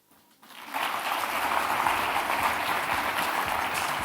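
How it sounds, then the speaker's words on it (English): Audience applause at a conference closing ceremony, starting quietly then swelling within a second into dense sustained clapping from a large crowd, even and continuous to the end. "another round of applause, please, for Ambassador Philip"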